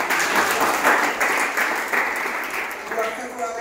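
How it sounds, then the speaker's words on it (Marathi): An audience applauds two doctors at a health talk, a dense continuous clapping that stays loud and even for the whole stretch, with a faint voice under it. "तुमच्या सगळ्यांच्याकडून एकदा जोरदार टाळ्या होत"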